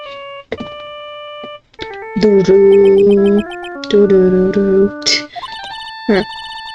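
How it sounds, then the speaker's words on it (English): Cell phone ringtone in Phoenix Wright: Ace Attorney, a loud synthesized electronic melody of sustained tones in repeated bursts, interrupted by short clicks and chirps. "All of a sudden, the phone began to ring."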